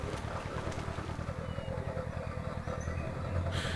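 A Wartburg three-cylinder two-stroke engine in the Spintires off-road driving game, a steady low droning, burbling rumble running continuously and fairly close throughout.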